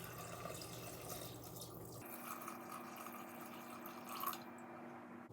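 Four cups of water pour steadily into an Instant Pot holding salt, turmeric, ghee and crushed ginger for black gram (urad dal) soup, a continuous close splashing and trickling that runs unbroken throughout with no talk.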